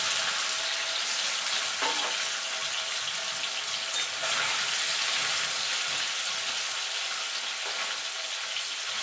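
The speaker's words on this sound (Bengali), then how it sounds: "এবার পনিরগুলো দিয়ে পনিরগুলোকে ভেজে নেব।" Paneer pieces fry in a pan with a loud, continuous hiss of sizzling oil close by, a few faint scrapes from stirring rising above the steady sizzle.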